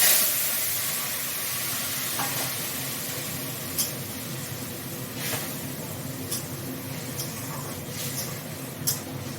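Whole spices for a phoron tempering sizzling in hot oil, a steady broad hiss close by with scattered small pops and crackles over nearly ten seconds, no talking.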